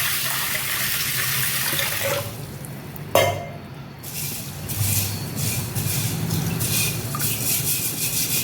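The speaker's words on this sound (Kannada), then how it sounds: "ಇದಕ್ಕೆ ಸ್ವಲ್ಪ ತಣ್ಣೀರು ಹಾಕಿಬಿಟ್ಟು ನೆನೆ ಇಡೋಣ" Cold water pours into a cooking pot in a steady, close, rushing stream for several seconds, broken by a brief knock partway through.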